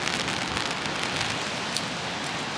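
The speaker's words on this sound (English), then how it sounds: "disgusting, disgusting rain" Steady spring rain falling in New York, a dense even hiss of drops on surfaces with scattered brighter patters, continuous throughout with no voices.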